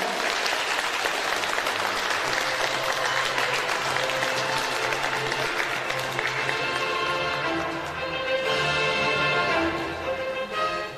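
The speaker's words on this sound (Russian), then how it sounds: "Аплодисменты ему." Audience applause for the winner of a Yakutia audiovisual heritage film chronicle contest, a dense continuous clapping that carries steadily and then thins out, with music rising toward the end.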